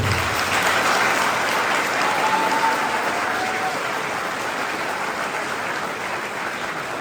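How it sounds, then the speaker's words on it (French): Press conference audience in Paris applauding themselves, dense sustained clapping filling the room, loud and even from start to finish with no talk over it. "j'aimerais demander à chacun d'entre vous que vous puissiez vous applaudir"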